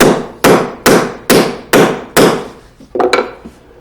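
A hammer drives a square wooden peg into a round hole to fasten two pieces together: six loud, sharp strikes fall in a steady rhythm close by, followed by a few lighter knocks.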